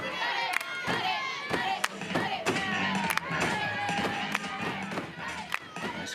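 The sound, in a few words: crowd at Anderson softball stadium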